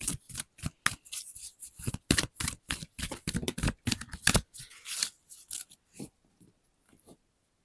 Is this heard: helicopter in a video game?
no